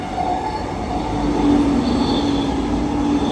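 A train coming from a metro area rolls past nearby in Australia with a steady rumbling roar and a thin metallic wheel squeal running through it, no voices.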